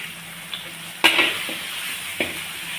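Onions fry in hot oil for a vittu sambar, a continuous close sizzle punctuated by three distinct clinks of a spoon against the pan as they are stirred.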